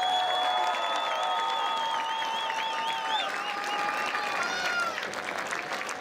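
A crowd applauds the 1984 Burlington Greyhounds football team with sustained clapping and cheering, cut through by shrill whistle-like tones.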